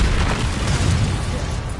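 The Confringo explosive spell goes off in the video game Hogwarts Legacy as a loud, dense boom that roars without a break for under two seconds.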